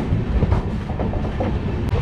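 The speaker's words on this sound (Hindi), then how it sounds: "तो अपनी ट्रेन आरा जंक्शन से डिपार्चर हो चुकी है" Kota Patna Express passenger train running at speed after leaving Ara Junction, heard from inside the coach as a loud continuous rumble with faint rhythmic rail clatter and no voices.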